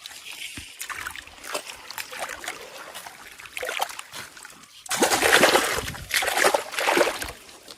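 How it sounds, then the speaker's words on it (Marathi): Water released from a small dam splashes and rushes in uneven surges into a drained river pool in Konkan, growing louder and fuller toward the end, close by with no talking. "आता हे पूर्ण इकडनं असं पाणी येऊन सगळं इथून हे आता भरून जाणार"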